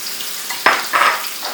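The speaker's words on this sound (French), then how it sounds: "on lance nos oignons qu'on fait revenir avec notre gingembre" Onions and ginger sautéing in a pan, a close steady hiss broken by a sharp utensil knock and a brief louder burst of sizzling from stirring.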